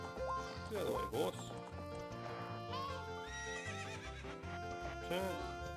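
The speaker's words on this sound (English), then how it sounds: "Get out of the way, horse." Epona the horse in The Legend of Zelda: Ocarina of Time gallops with rhythmic clip-clop hoofbeats and whinnies, mixed with game music and effects, moderately loud and continuous.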